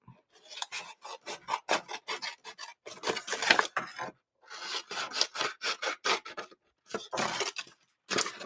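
Scissors cut pieces out of card for a folded gem-shaped gift box, giving repeated short rasping snips in quick bursts with brief pauses between them, close and clear with no talking.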